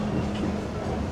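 Magic Kingdom railroad train rolls along on a straightaway with a steady, loud rumble and soft rhythmic rail clatter, heard up close with no talk.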